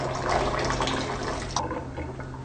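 Running tap water rinses the tube of a baby bottle, a close splashing flow with a steady hum beneath that shifts in tone partway through as the stream hits the part differently.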